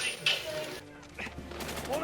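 Video game gunfire crackles in quick bursts of bangs and whizzes, moderately loud, with a voice talking alongside.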